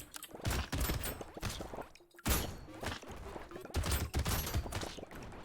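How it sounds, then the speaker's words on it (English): Explosions from the Brotato video game burst in rapid, dense volleys like chaotic gunfire, loud and near with brief pauses between clusters. "These explosions are really starting to go off here"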